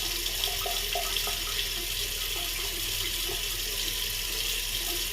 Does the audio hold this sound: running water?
yes